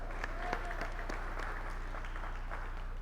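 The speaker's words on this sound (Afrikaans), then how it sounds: "Kom ons klap vir hulle allemaal lekker hande." Congregation applauding during a Sunday church service, a steady run of clapping from many hands with scattered louder claps.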